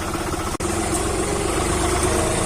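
A tractor engine runs at a steady, close, heavy idle-like throb while reversing on a ramp, with a single brief dropout early on and no talk.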